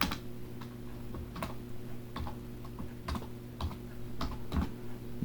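Someone types on a computer keyboard, a string of crisp, irregular key clicks close by over a steady low electrical hum.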